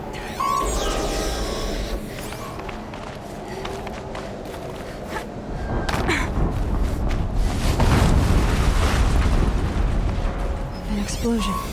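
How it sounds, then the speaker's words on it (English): An explosion in the video game Horizon Zero Dawn rumbles heavily and grows louder partway through, with scattered crashes and game noise around it, all fairly loud. "An explosion."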